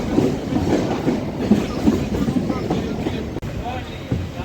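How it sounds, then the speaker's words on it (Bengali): A Kolkata local train runs over the tracks near the new Tala bridge, its wheels giving a steady, close rumble and rattle throughout, with a brief dip near the end. "এই গঙ্গা থেকে ট্রেনটা ডান দিকে ঘুরে গেছে"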